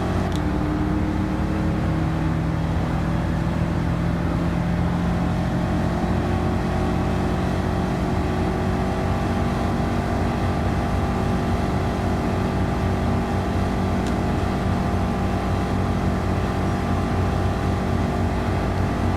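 Project car built as a 1968-style Dodge Demon, its engine droning loud and close in a sustained rumble with rising and falling revs that hold throughout.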